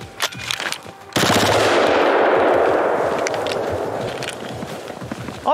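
Bushmaster ACR rifle firing outdoors at a target, a few quick shots then a long sustained burst, loud and close with a ringing echo trailing off afterward.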